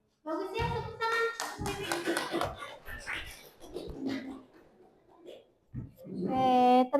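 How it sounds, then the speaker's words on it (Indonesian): Hand clapping in a training session, a burst of uneven, scattered claps from a small group with people talking over and between them, then a voice rising at the end. "Bagus ya, tepuk tangan."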